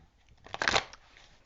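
A deck of oracle cards riffled in a short, soft burst of papery shuffling that peaks briefly and fades, close and quiet, with no voice.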